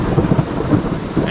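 A thunderstorm over a pond in East Texas, with steady heavy rain hissing and spattering on surfaces and low rumbling thunder rolling underneath, loud and close throughout.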